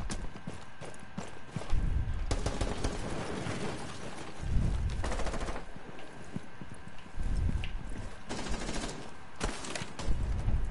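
Bursts of gunfire ring out in Rainbow Six Siege, repeated rapid volleys coming in clusters with gaps between them, fairly loud and close.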